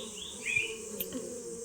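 Wild honey bees buzz in a forest during a wild honey harvest, a steady close hum with a few individual insects swelling louder as they pass near, with no voices.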